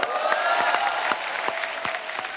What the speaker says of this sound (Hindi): आपकी ये तालियां, ये सीटियां